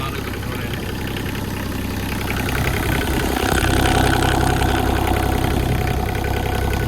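Digger engine idling steadily while warming up in cool weather, a continuous low rumble that holds level for the whole stretch and swells slightly partway through, running alone without talk.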